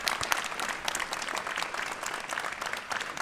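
A crowd at an outdoor citizens' rally applauds the police, with dense, continuous clapping from many hands, loud and sustained throughout and no talk over it.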